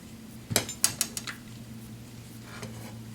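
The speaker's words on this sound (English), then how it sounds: "I'm going to shake up my diamond spray really" A diamond spray bottle rattles in a quick burst of about six sharp metallic clinks as it is shaken, then a faint click follows in a quiet room.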